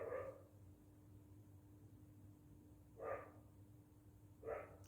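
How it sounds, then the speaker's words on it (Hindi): A dog barks indoors in three short, moderately loud bursts spaced a second or two apart, with a low steady hum underneath and quiet gaps between. "भौंक लो तुम पहले"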